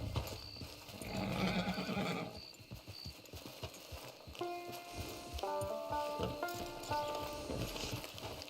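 A horse in the video game Red Dead Online clip-clops with rhythmic hoof falls and gives a whinny early on, followed by a short melodic game music or chime sequence, at moderate level.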